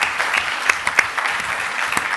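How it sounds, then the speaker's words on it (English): Audience applause at a Battle of Ideas debate event, a steady dense patter of many hands clapping with a few sharper claps standing out, fairly close and continuous, no voices. "let's give them a round of applause and say thank you very much"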